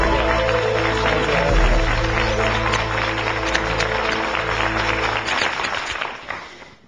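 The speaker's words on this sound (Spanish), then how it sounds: "al que recibimos con un fortísimo aplauso" Studio audience applause on a Spanish television quiz show, ¿Quién quiere ser millonario?, greeting a new contestant: dense, sustained clapping from a large crowd that holds steady for several seconds before tapering off.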